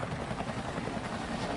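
A helicopter evacuating the last Americans from Vietnam, heard as a steady, dense broadband rotor and engine roar that holds at the same level throughout the short stretch, with no voices.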